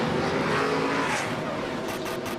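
Race cars roar off pit road at Talladega during the 2007 UAW Ford 500, a dense, continuous loud engine wash with no gaps, swelling slightly as the field accelerates away.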